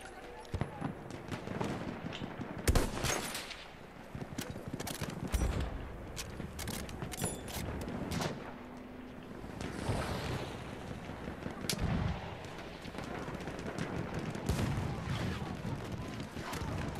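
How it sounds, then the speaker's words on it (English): Battlefield 1 multiplayer battle with continuous distant and near gunfire, scattered sharp shots and booming explosions over a rumbling backdrop, while a player talks quietly throughout. "Now I'm shooting too high."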